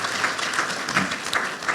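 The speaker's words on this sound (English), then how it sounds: "could we give them a round of applause?" An audience at a university arts and culture summit gives a round of applause, a dense, steady wash of many hands clapping at moderate volume for the whole short stretch.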